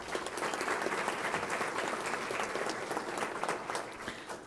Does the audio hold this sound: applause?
yes